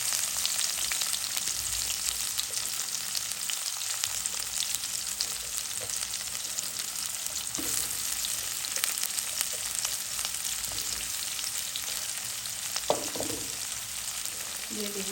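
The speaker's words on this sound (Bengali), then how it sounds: "তেল দিয়ে দিলাম। দিব রসুন কুচি, দিয়ে দিলাম পেঁয়াজ," Chopped garlic and onion fry in oil for a bitter gourd and fish curry, giving a steady, close sizzle with occasional louder pops and stirring scrapes, and no one talks.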